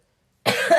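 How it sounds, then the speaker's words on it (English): A single person's cough erupts abruptly after silence, close and fairly loud, with a short harsh burst and trailing breathy rasp. "she didn't cough, but I just did"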